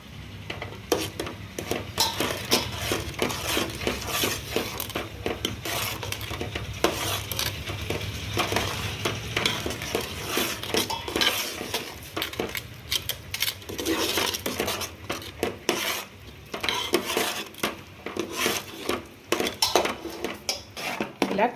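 Flour being stirred into a mixture in a pot for chana dal sweet dumplings, a continuous busy scraping and clattering of a utensil against the pot with a faint sizzle beneath, close and steady throughout.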